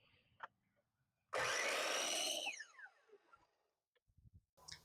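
A power saw cuts a wooden board at a 30 degree angle in one loud, close burst of about a second, with the whine winding down afterward and faint handling noises around it.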